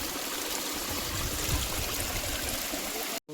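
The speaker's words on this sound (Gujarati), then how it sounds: "જો પાણીનું ધોધ આમ જઈ રહ્યું છે" Waterfall pouring steadily down a hillside at Datar Hill, a close, dense rushing roar that holds constant throughout, with a brief dropout near the end.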